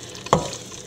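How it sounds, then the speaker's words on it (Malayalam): Chopped onion, ginger, green chilli and garlic sautéing for an egg curry, a soft sizzle broken by one sharp stir of the pan, close and brief. "സവോള, ഇഞ്ചിയും പച്ചമുളകും വെളുത്തുള്ളി എല്ലാം നല്ലപോലെ വഴന്നിട്ടുണ്ട്."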